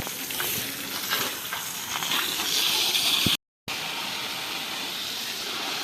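A pressure water jet washes mud off a tractor, giving a steady, close, loud spraying hiss that cuts out briefly near the middle and then resumes.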